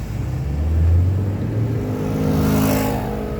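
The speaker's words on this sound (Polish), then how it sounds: "I tak skuterkiem przeleciał obok ciebie" A scooter passes by with a steady motor drone that swells and fades over a few seconds. A faint higher whine rises near the end.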